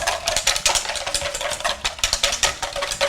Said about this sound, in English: So I'm just adding my cream and my vanilla, and I'm just using a whisk and a bowl.